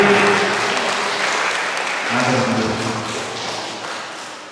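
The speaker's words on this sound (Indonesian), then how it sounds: "Tepuk tangan untuk KRI." Applause for the KRI Jeremia performers at an Easter church service and celebration, a dense, steady clapping from the congregation lasting throughout, swelling slightly midway with some voices underneath.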